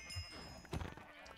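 Sheep bleating in the video game Minecraft, a short wavering bleat over a soft game backdrop, with faint background talk.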